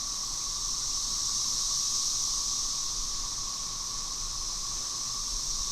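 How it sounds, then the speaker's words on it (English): Millions of cicadas drone in a backyard and surrounding neighborhood, a steady, loud, continuous hiss-like hum that never lets up and has no pauses or pulses, with no voices over it. "That's the sound of millions, if not billions, of cicadas in my backyard and neighborhood."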